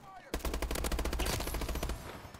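Rapid automatic gunfire in the first-person shooter Call of Duty: Advanced Warfare, a sustained close, loud burst of evenly spaced shots lasting about a second and a half before tapering off.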